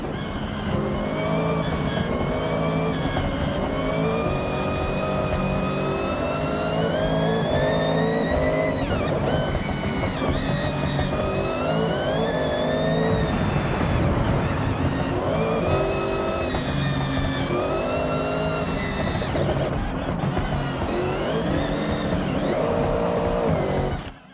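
A hypercar engine driven hard in Forza Horizon 6, climbing steadily through the revs with rising, sliding pitch and gear changes, loud and close for the whole stretch, with no talk over it.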